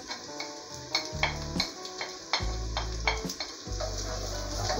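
Onion going into a hot pan with garlic, giving a steady sizzle with clinks and stirring scrapes of utensils against the pan. No one talks.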